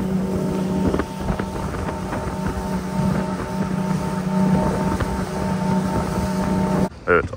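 A small motorboat cruises on the sea off Marmaris, its engine droning steadily under broad wind rush, the hum holding level until it cuts off abruptly near the end.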